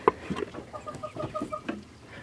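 Hens in a pasture give a short run of soft, close clucks and throaty calls, several in quick succession with small pauses between.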